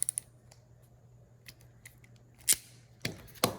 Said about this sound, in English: I have this crimping tool here, which is like a ratcheting crimp